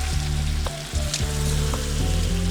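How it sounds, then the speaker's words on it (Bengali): Chicken and potatoes sautéing in a pan, a dense continuous sizzle with a few stirring knocks and scrapes breaking through. "আলু সহ এখন আমরা মাংসটি একটু কষাই নিচ্ছি বন্ধুরা"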